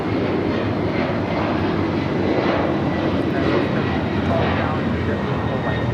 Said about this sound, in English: This is Delta Airlines 939 taking off to JFK on the 767-300ER.